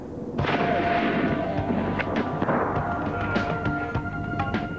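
A ski-area avalanche control cannon fires a 500 kg explosive charge, a sharp loud blast followed by a long rolling boom and echoing crackles across the snowy mountainside.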